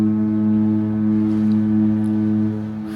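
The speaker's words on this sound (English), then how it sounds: "Foghorn going off regularly." Deep, steady ship's foghorn blaring close and loud through thick morning fog off Walvis Bay, Namibia, one sustained blast holding its tone before easing slightly at the end.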